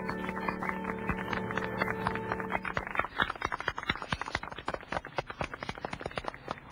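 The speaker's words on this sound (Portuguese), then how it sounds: "Senhoras e senhores, uma salva de palmas para a nossa cultura!" An audience breaks into applause for a cultural presentation. A tonal backdrop fades out, then a dense, crackling wash of many hands clapping fills the rest at moderate volume.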